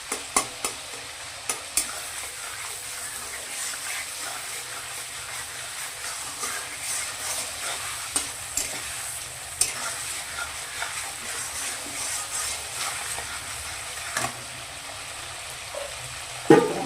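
Vegetables frying in hot oil for katla fish tel paturi, a steady sizzle with occasional stirring clicks and scrapes, close up and continuous with no talking.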